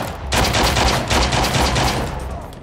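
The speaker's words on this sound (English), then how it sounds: "That's a bot shooting at me." Sustained bursts of automatic gunfire from an AI bot in the video game Arena Breakout, loud and close, with rapid repeated shots filling most of the clip.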